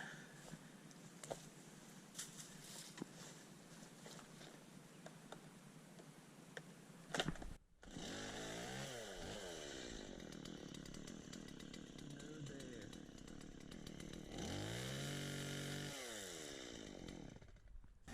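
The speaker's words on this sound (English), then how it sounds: "gonna chainsaw that one." A chainsaw revs up loud and close, then cuts back an overgrown knockout rose bush outdoors, its engine droning steadily with pitch dips as the chain bites into the woody canes.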